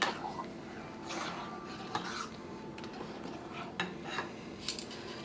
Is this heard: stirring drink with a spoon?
yes